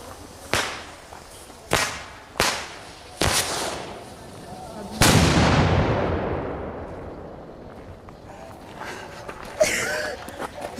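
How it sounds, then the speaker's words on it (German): Knallfrosch firecrackers go off outdoors at night as loud sharp bangs: four quick reports in a row, then a bigger blast with a long echoing decay. Scattered faint pops and rustling follow. "Gut, jetzt noch ein Knallfrosch."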